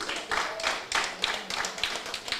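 Audience clapping at a political party branch meeting, a few rhythmic bursts of hand claps that rise and fade within a couple of seconds, fairly faint and without talk over them.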